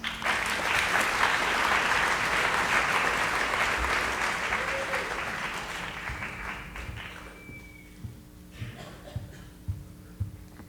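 A school morning-meeting audience applauds to welcome a guest author onto the stage, a dense wash of clapping that holds strong for several seconds and then fades out into a few scattered claps.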